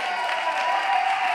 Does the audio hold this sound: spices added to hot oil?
no